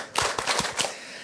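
Congregation clapping in unison five times during a Korean church service, sharp broadband claps in a quick even rhythm, fairly close and loud, then fading into room tone.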